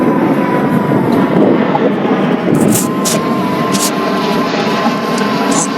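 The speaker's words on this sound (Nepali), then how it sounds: "प्लेन फेरि आयो, कति प्लेन आउँछ ऊ माथि हेर्नु" An airplane flies overhead at an outdoor work site, a steady broad roar that fills the whole stretch with little change in loudness, with faint talk underneath.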